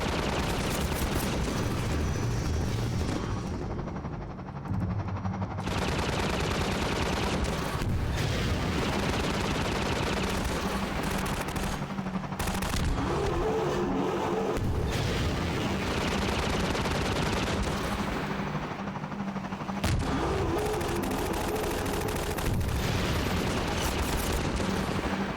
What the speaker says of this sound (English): I really like the sounds that the gunships make.